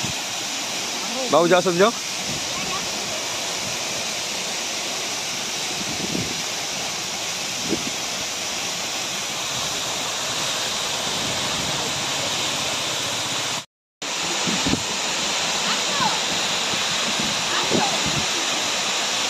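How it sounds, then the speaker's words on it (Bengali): A mountain waterfall on a road in North Sikkim makes a steady broadband rush that runs through the whole clip, cut briefly by a short gap, while people speak a few words over it. "পিছনে ওয়াটারফল দেখতেই পাচ্ছেন।"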